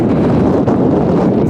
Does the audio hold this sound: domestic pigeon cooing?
no